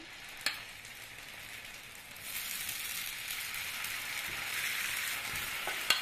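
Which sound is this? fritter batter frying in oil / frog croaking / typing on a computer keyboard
fritter batter frying in oil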